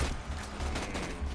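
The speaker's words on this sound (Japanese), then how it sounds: "ハンドガンの連射" Rapid handgun fire in Borderlands 2, a quick dense burst of shots running through a short moment, loud and close.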